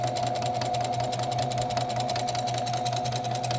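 A sewing machine stitches pinwheel quilt blocks together slowly and steadily, its motor giving a constant close, even whirring hum throughout.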